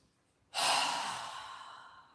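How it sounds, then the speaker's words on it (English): One strong, breathy exhale through the mouth comes after a deep breath during yoga. It starts suddenly after near silence, is close and loud, and fades slowly over a second and a half. "We're going to take 3 deep breaths, inhaling through our nose and exhaling through our mouth with a strong exhale."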